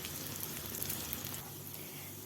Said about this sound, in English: I'm keeping on turning them and frying them the other side